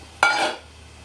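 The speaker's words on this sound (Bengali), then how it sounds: "আমি এবার ঢাকা দিয়ে দেবো।" A lid goes onto a pan of Bengali-style radish greens simmering over medium flame, a single bright metallic clank with a short ringing tail, close and alone.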